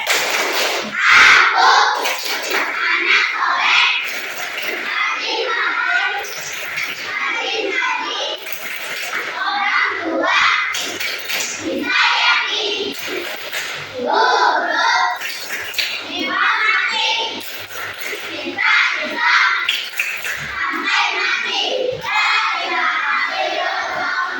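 Children at a school morning session clap and chant the 'tepuk anak soleh' routine together, rhythmic bursts of hand claps mixed with young voices, fairly close and continuous throughout.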